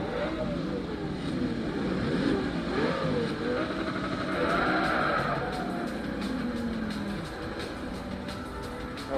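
Race car engines in Forza Motorsport 3 drone and rise and fall in pitch as they rev through gears, a fairly quiet, continuous whine with no talking.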